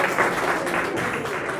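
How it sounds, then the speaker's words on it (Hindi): A group at an NSS camp claps hands together in a short, loud, close burst of applause lasting under two seconds. "उनके लिए ताली बजा दीजिए।"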